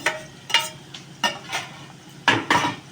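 A spoon stirs flattened rice with raisins and fried nuts in a pan for a winter chire polao, making about six rhythmic scraping strokes with soft clinks against the metal, close and fairly clear, with no talking.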